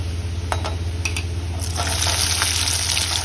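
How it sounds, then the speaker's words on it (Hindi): Soft sizzling of chopped garlic frying in a little oil, with faint stirring clicks and scrapes, close and fairly quiet throughout. "अपने थोड़ा सा तेल पर इसमें हम कटा हुआ लहसुन डालेंगे।"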